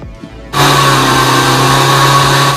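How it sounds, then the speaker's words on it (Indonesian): A blender mixing Oreo cheesecake pudding batter with liquid milk and agar powder kicks on after half a second and then holds a loud, steady motor whir to the end. "Kita langsung blender."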